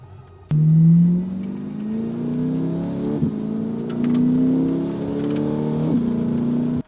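A Corvette C8 Z51 Stingray with a Paragon Performance exhaust starts up and revs. Its deep engine note climbs steadily through several pulls, dips briefly between them, then cuts off abruptly. It is close and loud.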